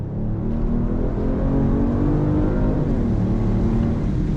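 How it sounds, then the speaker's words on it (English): A Genesis GV80 SUV accelerates on throttle on a damp road, its engine a loud, steady, close drone with harmonic tones rising and shifting as the revs climb, heard from inside the cabin without talk. "On throttle, here we go."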